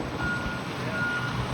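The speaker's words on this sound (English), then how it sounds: "I guess they loaded that truck and it's on its way" Steady reversing beeps over a low, rumbling diesel engine as a roll-off truck loaded with excavated stone moves off from a Chicago construction site, with no voices.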